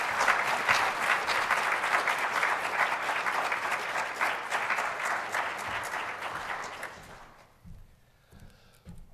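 Sustained applause from a lecture audience welcoming Dr. Hal Poe, a steady wash of clapping hands at moderate distance that holds for several seconds before fading out, followed by quiet room tone.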